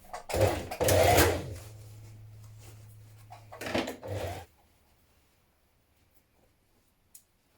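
A sewing machine stitches a dart in coat fabric, running in a couple of short bursts close up with a steady hum, then stopping into near silence.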